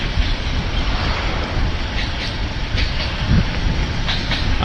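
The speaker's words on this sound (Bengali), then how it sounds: "দুটোই দেখতে পাচ্ছ ট্রেন সেটা কলকাতা থেকে আসছে" A train from Kolkata rolls past in hilly country near Shivgadi Dham, a continuous near rumble with rhythmic wheel clatter and a few brief clanks, steady throughout.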